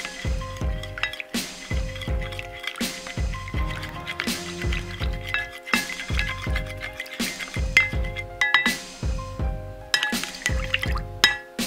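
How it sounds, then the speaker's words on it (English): An egg is beaten into water in a bowl, giving a quick, rhythmic run of close clinking strokes with wet splashes, repeating roughly once a second. "let's beat the egg into the water really good"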